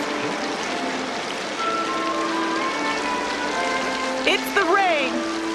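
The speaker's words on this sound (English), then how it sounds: "It's the rain." Steady rain patters outdoors with a dense, even hiss throughout, while tonal music and a brief voice rise over it near the end.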